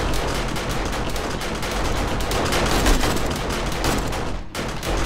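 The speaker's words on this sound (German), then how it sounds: "die schießen unsere Ecke kaputt" Gunfire in the video game 7 Days to Die during a blood moon horde, a dense, loud, continuous rattle of rapid shots with a brief break near the end and no talking.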